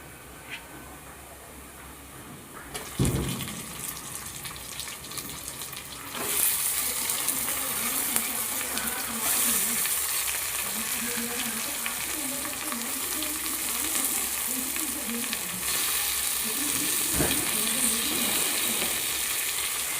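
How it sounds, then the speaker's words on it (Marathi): Chopped tomatoes hit a pan of reddened, browned onions and fry with a steady, loud sizzle that swells after the first few seconds, with occasional stirring clatter and no talking. "टमॅटो पण चांगलं स्मॅश होईपर्यंत आपल्याला फ्राय करायचे आहे किंवा भाजायचे आहे"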